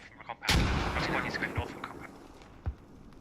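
Grenades go off in a tactical shooter game match: one loud, close blast followed by a few duller thuds and rumbling, heard under a commentator's voice.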